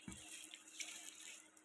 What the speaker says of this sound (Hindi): इसमें डालेंगे पानी